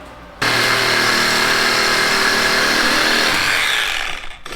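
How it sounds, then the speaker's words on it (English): A reciprocating saw cuts parts off during a Honda CR 500 racing lawn mower build in one loud, continuous, close buzzing run of a few seconds that ends abruptly. There is no talking. "I think we'll just sawzall them, baby."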